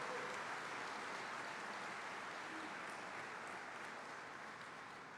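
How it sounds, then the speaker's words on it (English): A graduation ceremony audience gives a round of applause, heard as a steady, distant, fairly faint hiss of many hands clapping with no breaks. "a round of applause for Al and everything that he did"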